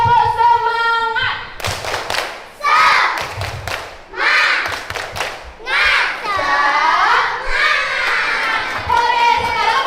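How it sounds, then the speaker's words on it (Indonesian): A group of students performs the rhythmic 'tepuk semangat' spirit clap, bursts of clapping and thumps in patterned sequences alternating with shouted chanting voices, loud and close. "Tepuk semangat!"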